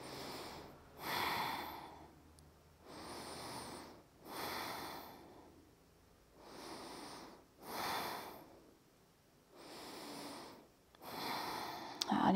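Deep, slow breaths taken while holding a seated yoga twist, roughly five long rhythmic inhales and exhales close to the microphone, separated by short quiet pauses.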